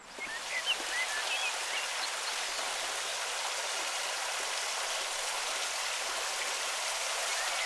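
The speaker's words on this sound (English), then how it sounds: "When you see the water running like that" Water runs steadily down the stonework of an abandoned canal lock, a continuous broad rushing hiss, close and even, with a few faint bird chirps early on.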